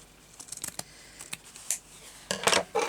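Scissors snip a fabric piece for crazy patchwork, with a few quiet, sharp clicks and cuts close by. The snips come in an irregular run and end in a louder flurry.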